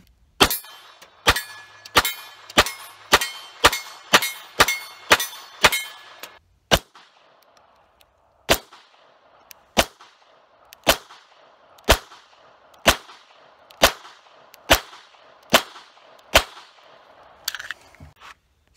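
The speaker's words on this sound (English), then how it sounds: "I'm beginning to like this pistol a little bit more as I shoot it" Beretta 84FS Cheetah .380 pistol fired at a range: about sixteen sharp, loud shots, a rapid string of eight or nine, then a pause, then slower evenly spaced single shots with ringing tails.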